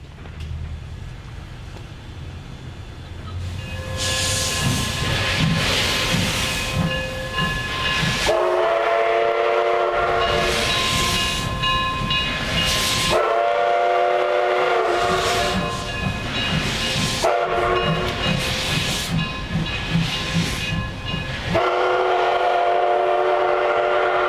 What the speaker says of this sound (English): the 482 is ready to roll and steams northward across 6th Street.